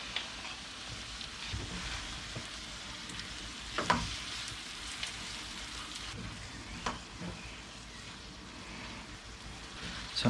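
Ginger garlic paste frying in a pan for paneer masala, a steady, fairly quiet sizzle with a few louder crackles and stirring clicks, no talking.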